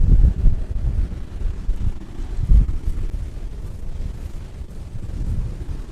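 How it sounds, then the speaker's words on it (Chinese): Strong coastal wind by a row of wind turbines on a beach, heavy gusty buffeting and rumble on the microphone that rises and falls in waves, no talk. "你会觉得它这个风大浪急啊"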